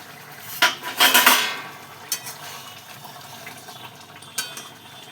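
A metal plate set over a cooking pot of chicken stomach curry: a few sharp clanks and scrapes of metal on metal near the start, then quieter clinks, no talk.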